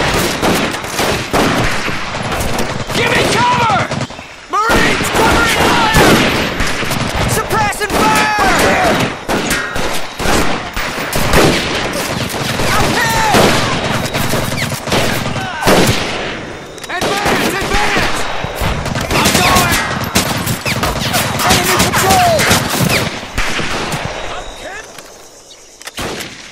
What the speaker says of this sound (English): Marines, covering fire!